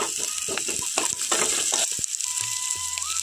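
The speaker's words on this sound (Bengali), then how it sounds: "পেঁয়াজটাকে এখানে হালকা আমি ভেজে নেব।" Chopped onions with black cumin seeds frying lightly in a pan for a bitter gourd dish give a loud, steady sizzle, broken by scattered clicks and scrapes of stirring, with no talk.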